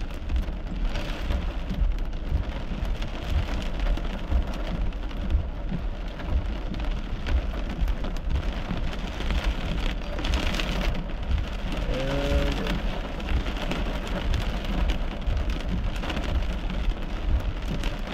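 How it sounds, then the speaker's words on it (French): Small hail falling outdoors, a dense steady patter of pellets on surfaces with a continuous rain-like hiss, loud and close throughout, no voices. "la petite grêle qui s'en vient sur moi"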